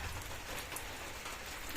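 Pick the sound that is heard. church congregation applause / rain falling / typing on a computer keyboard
rain falling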